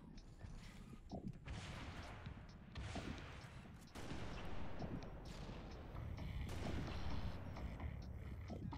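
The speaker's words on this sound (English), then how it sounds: "I throw a nade there so that I can destroy all the explosives and kill him" Grenade blasts and chained explosions of stacked explosives burst repeatedly in a Halo: Reach firefight, several sharp loud booms with crackling debris and mechanical clatter over about nine seconds.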